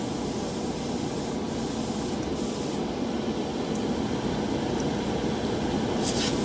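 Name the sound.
gravity feed trigger airbrush back-flushing cleaner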